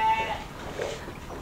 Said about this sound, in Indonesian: Nah, ini kawan-kawan, domba-domba penggemukan di sini.